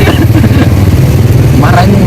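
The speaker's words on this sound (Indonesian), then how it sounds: "Motor." A motorcycle engine runs nearby with a steady low rumble that stays loud throughout, with brief voice-like sounds near the end.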